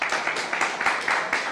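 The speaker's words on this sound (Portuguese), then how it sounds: "uma salva de palmas, por favor" An audience at a business talk claps to welcome speaker João Campos. The applause comes in quick rhythmic bursts, as if hands beat together in time, fairly close and steady through the brief moment.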